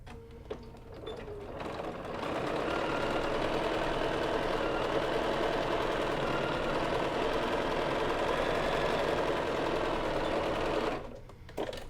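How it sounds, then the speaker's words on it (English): A sewing machine runs steadily for about ten seconds, stitching a 1/2 inch seam along the edge of a fabric basket, with a fast, even mechanical whir after a few quiet seconds and a brief stop at the end. "we're going to stitch along this edge again with a 1/2 inch seam allowance"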